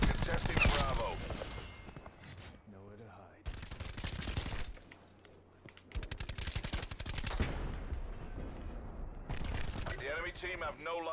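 Rapid bursts of video-game gunfire from a weapon that never reloads, loud and sustained in long automatic volleys with short gaps, while players talk over the shooting.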